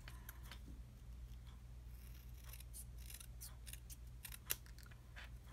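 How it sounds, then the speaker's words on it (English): Scissors trimming a paper treat pouch by hand: a quiet run of quick snipping cuts and crisp paper rustles, with one sharper snip near the end, close and faint with no talk. "I'm just going to go ahead and trim it by hand."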